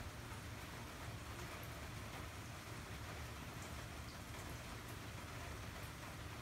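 Steady rain falls on a rainy day in South Louisiana, a continuous even hiss of drops with no pauses, fairly faint, with no voices.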